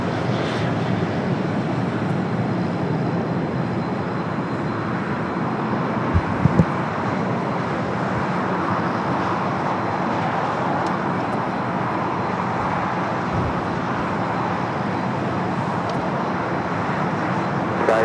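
A heavy Airbus A330 lands on runway 25 left at LAX, a steady, fairly distant jet rumble and roar that holds throughout, with a couple of brief thuds partway through.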